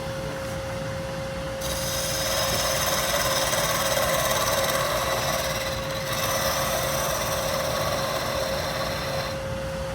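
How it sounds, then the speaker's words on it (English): Large scraper cutting across spinning wood on a lathe, flattening the base of a turned Christmas tree: a steady, continuous scraping rasp over a constant motor hum, close and fairly loud throughout. "I have a fairly large scraper, and I use that to just flatten out the bottom."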